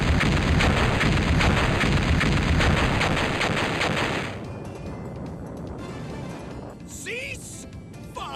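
Gunfire in the Megaman Legends video game, a dense roaring barrage of rapid shots that drops away after about four seconds, leaving quieter background noise and a few synthetic chirps.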